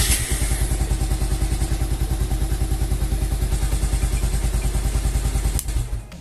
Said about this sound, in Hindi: चलिए इंजन को एक बार स्टार्ट करके देखते हैं।